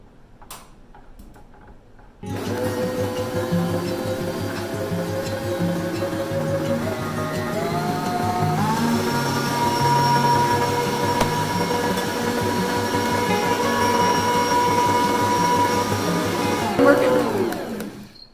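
An electric mixer or blender whirs steadily through chocolate cake batter made with cooking oil, loud and continuous for about fifteen seconds with the motor pitch rising midway, then cutting off.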